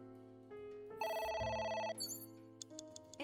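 A phone rings inside the video game Ai: The Somnium Files, a bright electronic bell tone in short repeated bursts over a soft game background, quiet and close.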